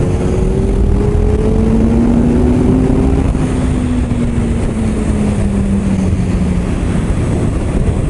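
Suzuki Hayabusa motorcycle engine pulls hard on a road, a loud continuous drone with rising pitch as it accelerates through gears, heavy wind rumble underneath, and no voices.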